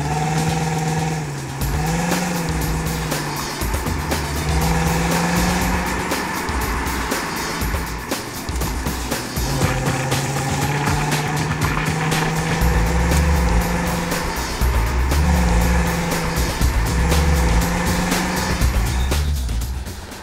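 Volvo V70 estate car engine running steadily with a low, continuous hum and occasional gentle rises in revs, loud and close throughout with no talking.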